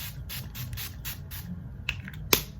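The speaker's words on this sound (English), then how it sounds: "So I'm just gonna go ahead and spray this" Several short hissing sprays from a spray bottle in a quick series, followed by a couple of faint clicks and a sharper tap near the end.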